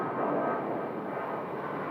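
A Southwest Boeing 737-700 airliner departs from Phoenix Sky Harbor airport, its jet engines giving a broad, steady roar heard from a distance with no talk.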